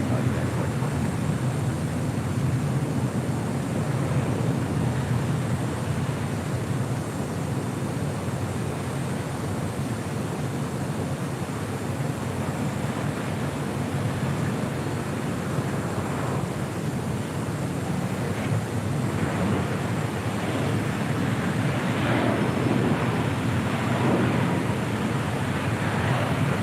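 A Southwest Airlines Boeing 737 MAX 8 arrives at LAX, a broad steady jet roar that swells slightly toward the end, heard from outdoors with wind noise, and a voice speaking faintly under it.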